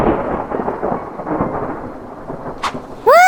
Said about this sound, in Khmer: ពិតជាមានភ្លៀងពិតមែន